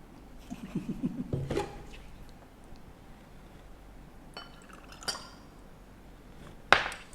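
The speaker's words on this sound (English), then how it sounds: "Stirring." Two-tone Thai pink milk is stirred in a glass, giving scattered soft clinks and scrapes, then a few sharper taps, the loudest near the end, in a quiet room.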